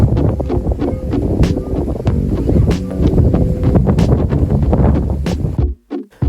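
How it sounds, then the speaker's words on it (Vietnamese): Gusty east wind in an open field where a kite is being flown batters the microphone in a loud, rough roar, surging in waves and dropping out briefly near the end. "Ngoài đồng gió đông đang giật từng cơn"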